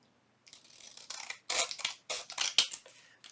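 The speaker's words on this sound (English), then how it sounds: "Now I've got to trim this one." Scissors snip through paper trims for a lace pocket junk-journal tag, a run of close, crisp cutting strokes of uneven length with short pauses between them and no talking.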